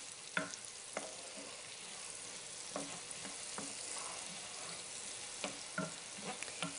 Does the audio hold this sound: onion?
yes